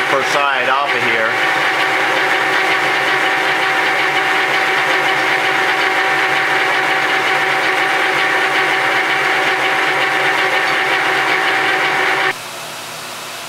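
Benchmaster machine taking a cut on a hub, a loud steady whirring and grinding mechanical hum that holds for about twelve seconds, then drops abruptly to a quieter drone.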